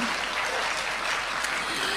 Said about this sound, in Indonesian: Nah ini tepuk tangan, ya.